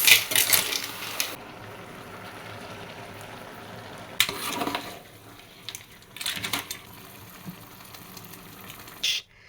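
Edikang Ikong vegetable soup being stirred in a pot, with scattered scraping and clinking bursts of the spoon against the pot over a faint sizzling background.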